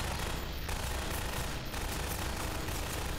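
Enemy gunfire in Half-Life 2 during a speedrun, a dense continuous stream of rapid shots and bursts filling the whole stretch at steady, fairly loud level with no pauses.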